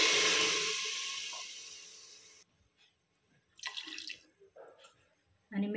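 Water is poured into a pot of rice for matar pulao, a steady splashing pour that fades out over about two seconds, followed by quieter scattered kitchen clinks and scrapes.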